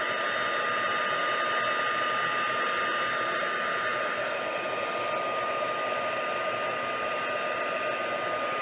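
Heat tool blowing steadily while melting clear embossing powder on a craft piece with silver foil sheets; a constant close whooshing fan-and-air roar running throughout, alone with no talking.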